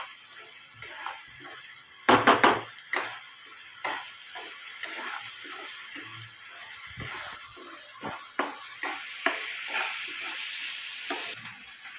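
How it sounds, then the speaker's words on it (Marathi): Curry leaves fry in hot oil with a steady close sizzle and hiss, broken by sharp crackles and pops and occasional utensil clinks, with no voices. "कढीपत्ता टाकल्यानंतर पुन्हा फ्राय करून घ्यायचं."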